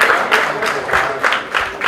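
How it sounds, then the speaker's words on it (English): An audience at a fundraising ramp walk for an NGO bursting into applause, dense rhythmic clapping from many hands, loud and close, pulsing steadily throughout. "Ladies and gentlemen, first let's applaud for the cause."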